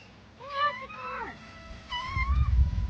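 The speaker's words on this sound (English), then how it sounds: "Why is there a cat in my car?" A cat meows inside a car, giving two drawn-out, rising and falling cries about a second apart, close and clear, followed by some thumping and rustling.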